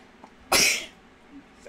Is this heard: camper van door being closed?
no